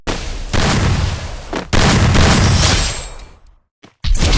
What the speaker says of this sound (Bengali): কর গুলি।